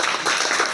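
Brief burst of hearty applause from a group at a classroom gathering on traditional toys, dense clapping filling the whole moment at a steady, fairly loud level with no voices.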